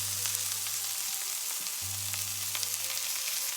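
Tofu, mushrooms and garlic sizzle steadily in a hot pan, a close continuous crackling fry with a low hum in the background and no voices.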